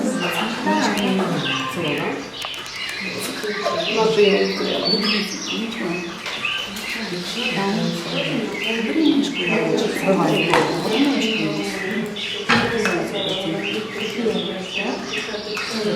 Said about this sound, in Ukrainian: ми послухаємо спів пташок, якого нам так не вистачає